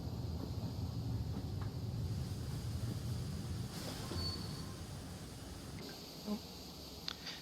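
A steady rolling rumble of Thomas the engine pushing a train along the rails in a Thomas & Friends game, with faint high squeals and a light hiss riding over the continuous track noise.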